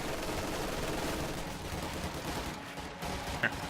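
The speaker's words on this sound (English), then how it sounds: "these particular paratroopers are looking to engage this machine gun here" Machine gun fire crackles through a Company of Heroes 2 battle between paratroopers and a German position, a dense, continuous rattle of shots kept faint in the background mix.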